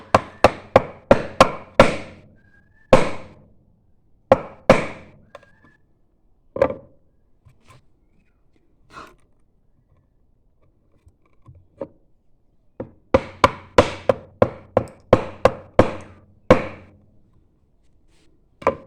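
A chisel is driven by hand through wood to carve a lowercase letter m. Bursts of quick, sharp wooden taps ring out close by, then a long quiet pause with a few isolated knocks, then another rapid run of strikes.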